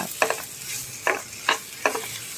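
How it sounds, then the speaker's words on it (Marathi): Masala with onion and tomato fries in oil, a soft steady sizzle broken by four distinct scraping strokes of a spoon stirring the pan, close by. "असा तेलावरती आपण मसाला परतून घ्यायचा"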